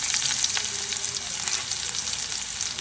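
Chopped onion added to a pan with garlic and curry leaves, frying for a green plantain thoran: a steady, close hiss of sizzling oil with faint stirring throughout.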